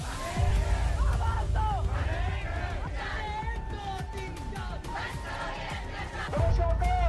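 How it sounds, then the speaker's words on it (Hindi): Protest crowd of thousands shouting and chanting together, a loud dense roar of many voices with individual yells rising out of it throughout. "हजारों की संख्या में लोग प्रोटेस्ट पर"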